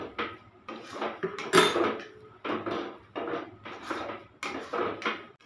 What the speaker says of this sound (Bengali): খুন্তি দিয়ে এইভাবে চেপে চেপে চেপে চেপে এইরকমভাবে খুন্তি দিয়ে এইরকমভাবে নেড়ে ভালো করে নাড়ুটাকে পাক করে নিতে হবে